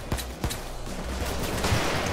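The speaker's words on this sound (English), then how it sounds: "I'm taking quite a bit of fire at the moment" Gunfire in the video game Payday 2 during a bank robbery shootout, a few sharp shots near the start followed by a dense, continuous crackle of distant fire.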